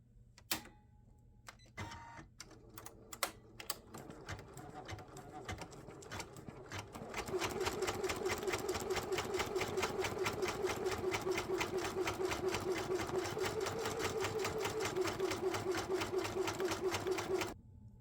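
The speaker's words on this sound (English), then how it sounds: "We've finished stitching the shirt" An embroidery sewing machine stitches a logo onto a pocket shirt. Scattered clicks and short starts give way to a steady, rapid mechanical chatter that runs loud and close for about ten seconds before stopping.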